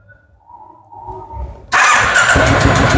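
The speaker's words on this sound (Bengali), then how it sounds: "একটু স্টার্ট দিয়ে একটু তাহলে শুনিয়ে দিই যে গাড়ির ইঞ্জিন কন্ডিশনও কিরকম রয়েছে।" A second-hand Royal Enfield motorcycle engine starts at a used bike dealer: a few quiet cranking clicks and low rumbles, then the engine catches and settles into a loud, close, continuous thumping idle.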